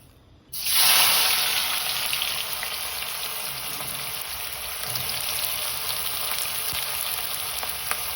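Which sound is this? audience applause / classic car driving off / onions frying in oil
onions frying in oil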